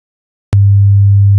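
A low 100 Hz sine-wave message signal generated in Python sounds as a loud, steady hum that starts abruptly and continues unbroken to the end, with nothing else audible.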